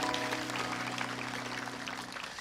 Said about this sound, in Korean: 우리 하나님께 영광의 박수를 올려드리도록 하겠습니다.